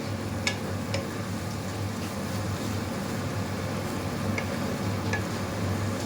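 Onions with garlic paste frying in a pan, a soft, steady sizzle with faint crackles. It stays quiet and even throughout, with no talking.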